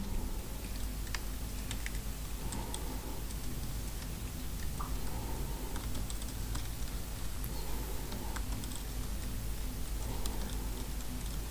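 Keys on a computer keyboard are tapped in scattered short clicks over steady room noise, with no talking.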